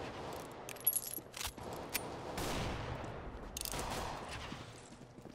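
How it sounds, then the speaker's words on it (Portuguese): Shots from an R8 Revolver in Counter-Strike: Global Offensive ring out in a quiet game mix: several sharp, fairly faint gunshots spaced irregularly, with a brief rattling burst near the middle. "Quem é que tá atirando em mim?"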